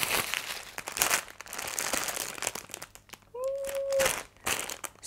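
A soft parcel is torn open and unwrapped by hand, with close, loud bursts of plastic crinkling and rustling. A brief high whistling tone cuts in partway through.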